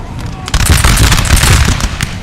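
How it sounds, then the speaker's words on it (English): Dense crackling musket volleys from massed line infantry in a Napoleonic-era battle game mod, a loud, continuous rattle of overlapping shots with a rumbling low end. "the line infantry shooting into this position here"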